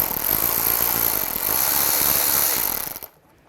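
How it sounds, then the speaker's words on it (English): A T30 socket driving out a screw from a panel on a 2009-2013 BMW 328i xDrive, a steady close whirring of a power tool that runs for about three seconds and then cuts off abruptly. "Use a T30 socket."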